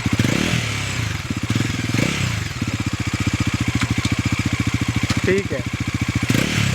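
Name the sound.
Bajaj NS 400 motorcycle exhaust revving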